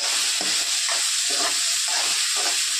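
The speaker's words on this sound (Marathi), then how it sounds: "हे भाकरीचे आता याला 2 मिनिटं छान परतून घ्यायचं आपल्याला।" Crumbled jowar bhakri sautéed in a pan, a steady hissing sizzle beneath a rhythmic series of soft scraping stir strokes, close and without speech.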